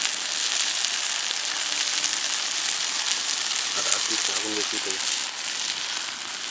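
Masala-coated bhola fish fries on a banana leaf at an outdoor picnic with a dense, steady crackling sizzle throughout. A voice speaks briefly in the middle.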